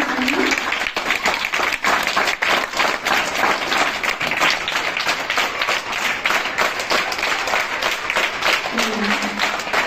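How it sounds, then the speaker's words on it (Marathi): Steady, dense clapping from a large crowd at a school election event runs throughout, loud and continuous, with a few voices faintly audible underneath. "टाळ्या वाजवायच्या जोरदार."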